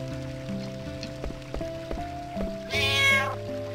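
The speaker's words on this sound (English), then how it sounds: "Wow, that's a big meow from a cat." A cat in the video game Final Fantasy IX gives a single loud, bright meow near the end, rising above looping background music and soft pattering sounds.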